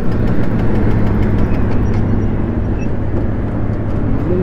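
A motorbike engine struggling with no fuel supply, jerking as it runs: a loud, close, continuous rumble with little clear break in the roar.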